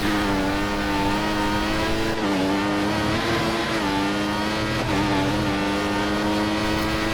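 Formula 1 race car engines in the F1 2014 video game at Silverstone, a loud steady high-pitched engine whine that rises and dips with gear changes, continuous and close, with no talk.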